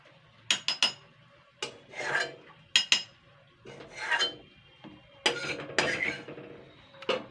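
A metal spatula scrapes burnt bits off a pan while frying potato and egg fritters, in short rasping strokes that come in uneven bursts with brief pauses between them, close and fairly loud with no talking.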